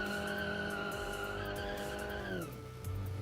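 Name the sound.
car tire wheel spin in BeamNG video game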